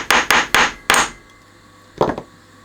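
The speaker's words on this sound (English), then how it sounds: "Should go in easily from this direction, which it does. And just tap it back in." Sharp taps driving a roller dowel back into an Amstrad boombox, four quick close knocks in a row, a brief pause, then two softer taps.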